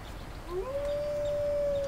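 A dog howls in the video game Die Young, a single long rising then sustained wail from somewhere behind, clear over a low ambient background.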